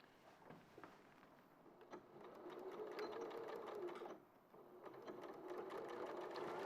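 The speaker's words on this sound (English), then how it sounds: "we're actually just sewing this short edge here" A sewing machine stitching a short edge of fabric with a quarter-inch seam runs steadily at close range, pausing briefly partway through before humming on again.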